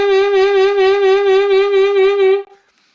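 Sustained saxophone note with slow, even beginner vibrato pulsing about four times per second, played alone and clearly before cutting off near the end.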